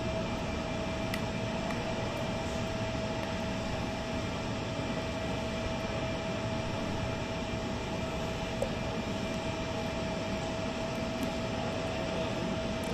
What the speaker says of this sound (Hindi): प्रधानमंत्री नरेंद्र मोदी का विमान यहाँ पर लैंड कर चुका है।